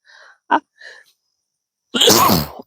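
A single loud, explosive sneeze bursts out at the end, following a few soft breathy sounds and quiet murmurs.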